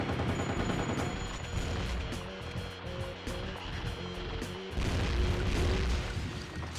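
Gunfire in the PS2 game Underworld: The Eternal War, rapid repeated shots and booming blasts over a busy game soundtrack, fairly loud, with a brief lull before heavier firing resumes and no talk.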